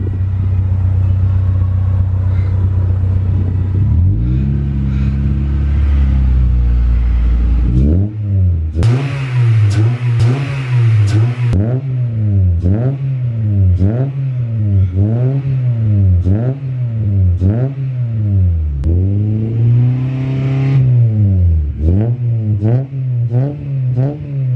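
A 5th-generation Honda Prelude with the BB6 engine idles roughly with a low-idle RPM fault. A loud, close, deep engine rumble holds steady at first, then surges and dips in a regular wavering rhythm.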